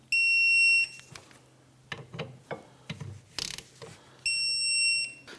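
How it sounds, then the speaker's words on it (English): Torque wrench tightening caliper slide pin bolts to 17 foot-pounds on a 2004-2008 Acura TL during rear wheel bearing and hub replacement; a series of short close metallic clicks and ratcheting taps between two sustained high electronic tones. "torque our caliper slide pin bolts to 17 foot-pounds"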